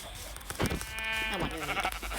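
Sheep bleating in a Minecraft survival game, a few wavering cries close by over steady game background sound.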